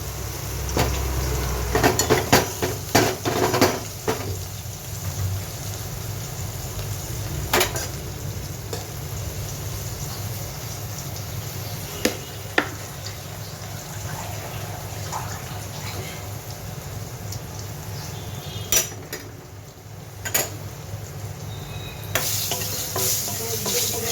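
Onion and garlic fry and are stirred in a pan for a spicy dried-fish curry, with a steady sizzle, scraping stirs and occasional clinks of the utensil against the pan throughout.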